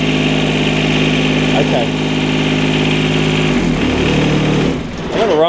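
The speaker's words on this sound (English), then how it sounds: "Gotta have the mower running." A John Deere 455 diesel mower engine idles steadily and loudly up close, a droning hum that shifts slightly near the end, with a brief spoken word over it.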